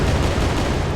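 Rapid, dense booming explosions from an Unreal Engine 4 game pile into a continuous loud rumble for about a second, each blast merging into the next.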